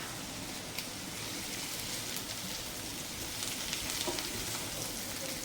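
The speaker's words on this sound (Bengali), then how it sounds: "বেশ কুরকুরে করে বেশ আঁচ দিয়ে সুন্দর করে ভেজে নেব" Mourala fish fry crisp in hot oil, giving a dense, continuous crackling sizzle close by, steady throughout with small pops and no voices.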